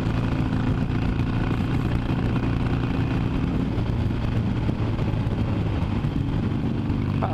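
On the BR 101 highway, a Harley-Davidson 883 Iron with a Custom sport exhaust holds a loud, even low-pitched rumble, with slight swells of revving over steady wind roar and no speech.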